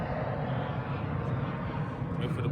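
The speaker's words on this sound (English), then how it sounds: "It's another plane, hold on, I'm at the beach." An airplane passes over a beach, a steady broad engine drone that stays fairly distant and constant under light wind and surf-like noise.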